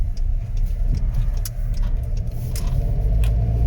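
A car on a driving-test route rumbles steadily at close range, its engine droning low and even as it drives along, with a slight shift in tone as it changes into second gear.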